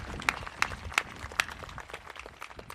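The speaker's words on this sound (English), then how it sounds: "So big round of applause for TDC and ECTV." Sparse, fairly faint claps at a high school commencement ceremony, a few distinct sharp hand claps near the start then a thin scattering of quieter clapping that tapers off.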